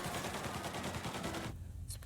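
Rapid bursts of gunfire in Mafia: Definitive Edition crackle continuously, loud and dense, then cut off abruptly into a quieter stretch with a few faint electronic blips.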